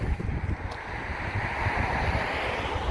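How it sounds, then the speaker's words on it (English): Strong wind gusts roar outdoors in front of a collectibles store in Barnegat, New Jersey, a steady loud buffeting rumble battering the microphone, with no voices heard. "We're gonna go inside so that the wind isn't killing everybody."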